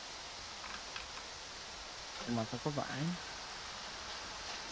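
Steady rain falls in the survival video game Sons of the Forest, a soft, even hiss throughout, while a voice speaks briefly over it midway.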